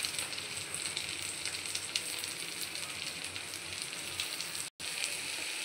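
Chopped tomatoes and onions fry in a pan with a continuous, even sizzle and crackle, broken by one short drop to silence near the end.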